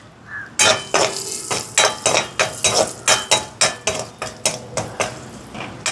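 Plums (raisins) roasting in ghee in a pan, with a spoon repeatedly scraping and clinking against the metal pan in a steady rhythm of sharp, close strokes over a soft sizzle.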